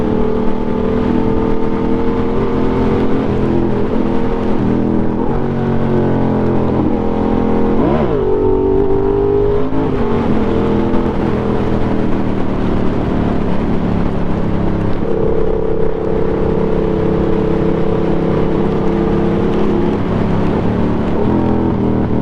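A Yamaha MT-07 motorcycle out on the road, its engine droning steadily and loudly over continuous wind rush, with revs rising and dropping as it shifts down through the gears.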